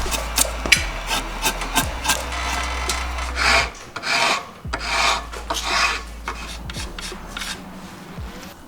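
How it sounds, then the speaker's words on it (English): A rasp shapes an Osage orange self bow in repeated close strokes, each a rough scraping burst, arriving in an uneven rhythm over a low background hum. "Just clean it up with the rasp."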